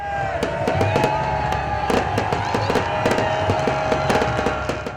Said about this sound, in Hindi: लिबर्टी चौक में भी नए साल को शानदार आतिशबाजी के मुजाहरे से खुशामदीद कहा गया।